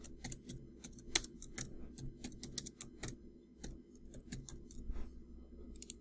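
Quiet, irregular clicking of computer keyboard keys, a rapid run of light taps with short pauses between bursts, close up over a faint background hum.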